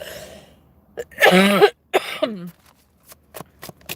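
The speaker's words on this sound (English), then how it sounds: "I'm going to have a coughing fit, I guess." A bout of harsh, throaty coughs and throat clearing, several bursts in quick succession, followed by a few short, sharp clicks and taps.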